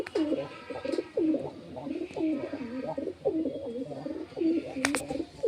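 Pigeons coo in a close, steady run of soft rolling calls, one bird being Jack's new mate, with a few faint chirps mixed in and no talking.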